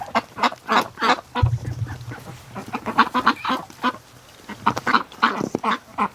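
Loud, busy quacking and honking from a group of ducks nearby, calls overlapping in rapid bursts with a brief low thump partway through.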